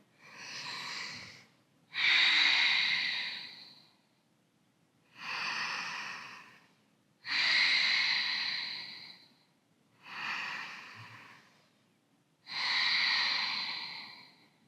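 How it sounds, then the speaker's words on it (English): Three slow, deep Ujjayi yoga breaths, each a long audible inhale followed by an ocean-like exhale, close and steady with quiet pauses between. "Let's take 3 deep Ujjayi breaths here."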